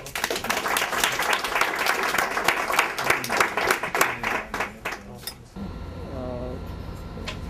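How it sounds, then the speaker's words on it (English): An audience at a crowdfunding networking event in New York claps loudly for several seconds, with a few voices mixed in, then the applause stops abruptly and quiet room noise with a brief voice follows. "Let's give him applause."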